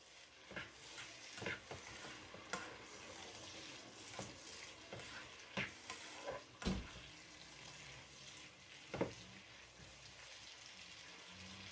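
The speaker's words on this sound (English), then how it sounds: "I'm going to stir it. I'm going to allow it to cook, fry a little bit." Shredded tomatoes fry for a Spanish paella under a soft sizzle, with irregular scraping stir strokes and clinks of the utensil against the pan, quiet and close.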